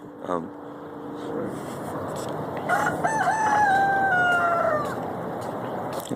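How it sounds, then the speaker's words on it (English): A rooster crows once, loud and drawn out, over steady outdoor ambience with a brief voice near the start. "Somebody's rooster letting everybody know it's time to get up."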